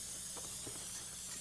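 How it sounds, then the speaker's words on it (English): Cooking spray sprayed from a can onto a pan, a steady close hiss across the whole moment with faint clicks of the nozzle under it. "take this pan and spray that pan real good"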